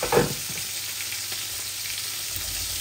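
Bean seeds fry in a pan with fish head, giving a steady close sizzle with a brief stirring clatter at the start and no talk.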